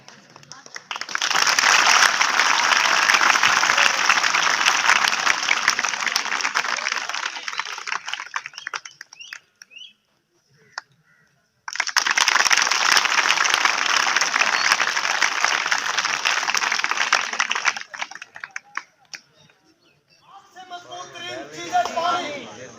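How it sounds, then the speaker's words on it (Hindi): An audience claps steadily during a stage show of tricks, two long, dense stretches of loud, rapid clapping separated by a short pause, ending with someone speaking. "तालियां मारो।"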